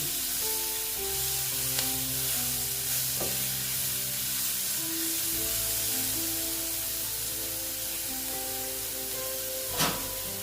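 Grated onion frying in a pan: a steady, close sizzle with soft hissing throughout and an occasional clink of stirring, with no talk.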